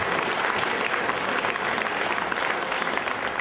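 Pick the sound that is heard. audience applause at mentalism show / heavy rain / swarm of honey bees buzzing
audience applause at mentalism show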